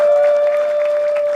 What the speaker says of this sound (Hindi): जोरदार तालियां यार शिवम वर्मा के लिए